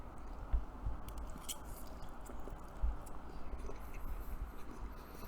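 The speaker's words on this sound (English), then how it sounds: "Sorry if you hear me chewing." Someone chews food close to the microphone during a Batman v Superman: Dawn of Justice watchalong, giving soft, moist, repeated bites with a couple of sharper crunches over a low hum.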